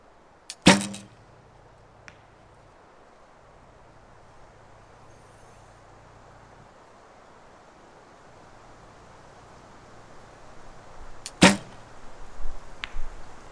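Arrows shot from a bow fitted with a Ramrods Ultra V4 stabilizer, outdoors in steady wind: two sharp, loud release snaps roughly eleven seconds apart, with faint wind noise and low hum between them.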